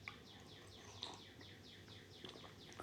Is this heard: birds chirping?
yes